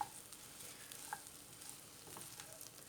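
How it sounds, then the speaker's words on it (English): Quiet, steady sizzling of chicken pieces stir-frying in a pan, with faint scraping as the pieces are stirred. "all I'm doing there is stir frying my chicken pieces to heat them up as well"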